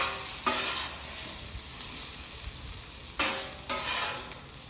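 Vegetables sizzle steadily on a grill as they are stir-fried for pork quesadillas, a continuous hiss with a few louder scraping stirs, no talking.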